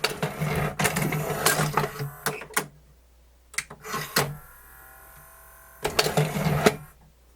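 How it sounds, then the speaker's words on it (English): Sanyo SuperBeta 4032 VCR tape mechanism spinning with a stretched, slipping belt, giving bursts of mechanical whirring and clicking separated by quiet gaps, close up. "this belt is probably slipping as well. Yeah, let me try to do it again. Yeah, you see that? It's spinning."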